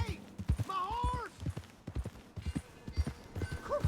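Horse hooves clip-clopping in the Red Dead Redemption 2 video game, a steady, fairly close rhythmic series of hoofbeats with a brief whinny, all under talk.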